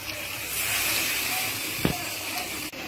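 Water hits a hot pan of oil-fried chicken curry, giving a loud, steady hiss of sizzling and steam close by that carries through to the end.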